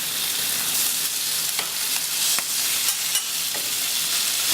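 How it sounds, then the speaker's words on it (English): Little strips of bacon sizzle on a Eurostoves Culinarian griddle, a steady close hiss and crackle with a few sharp pops, alone with no voices. "now we're going to throw little strips of bacon"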